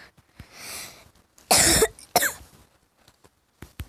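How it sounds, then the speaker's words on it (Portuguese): Two or three sharp coughs close to the mic, the first a harsh burst followed by a shorter one, with a few faint clicks and breaths around them. "Às vezes eu dou umas tossidas normal."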